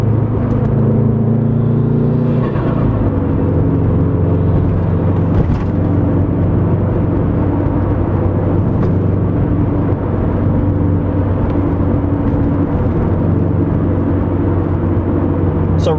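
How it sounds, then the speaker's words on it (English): A 2012 Subaru WRX with an aftermarket exhaust pulls steadily through first to fourth gear at moderate pace, a continuous loud engine drone rising in pitch and dropping at each shift, heard from inside the car. "we're just going to go through 1 through 4th gear at a relatively quick pace"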